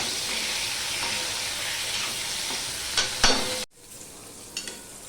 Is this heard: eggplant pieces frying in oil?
yes